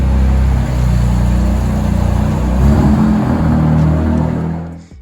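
A small car idles and is moved at a public self-service car wash station, its engine rumbling steadily at close range with slight revving changes, no talking.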